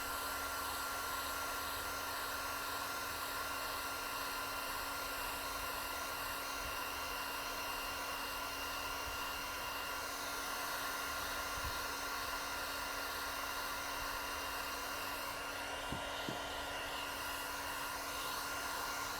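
A heat gun warming the emblem on a Tesla Model Y Juniper refresh, held about a fist length from the car: a steady close whirring blower drone with a constant tonal whine, no talking.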